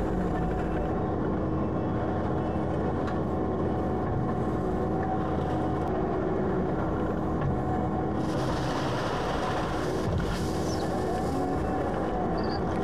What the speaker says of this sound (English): Here's my son Joey running the skid steer.